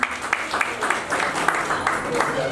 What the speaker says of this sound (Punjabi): ਸ਼੍ਰੀ ਰਜੇਸ਼ ਰੈਣਾ ਜੀ ਉਹਨਾਂ ਲਈ ਵੀ ਬੜੇ ਜ਼ੋਰਦਾਰ ਤਾਲੀਆਂ ਪਲੀਜ਼